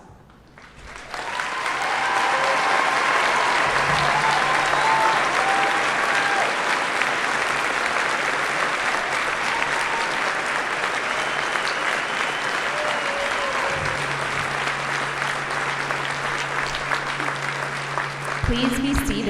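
High school graduation crowd in a large hall applauding students wearing honor stoles. Clapping swells within the first two seconds into loud, sustained applause, with a faint low hum underneath and slight tapering near the end.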